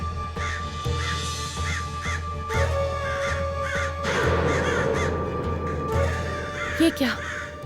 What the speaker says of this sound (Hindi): कौवे क्यों पुकार रहे हैं?